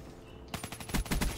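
Rapid KUDA submachine gun fire in the Black Ops 3 video game breaks in after a quiet moment as a quick, loud stutter of close shots, several sharp rounds in a tight burst.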